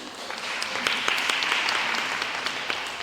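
A forum audience in a Lviv hall applauds steadily, a dense wash of many clapping hands at moderate loudness with scattered sharper claps, continuing without a break and with no talk over it.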